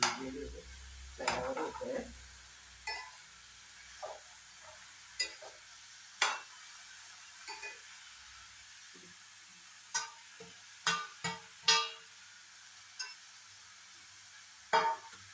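A spatula stirs bitter gourd with minced ginger in a pan for thoran, giving sparse, irregular clicks and scrapes over a faint background sizzle, close and fairly quiet.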